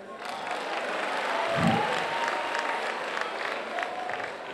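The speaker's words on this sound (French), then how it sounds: "applaudissez pour la justice togolaise" A crowd applauds steadily for several seconds at a Togolese gathering, with dense, even clapping and a few faint voices rising through it.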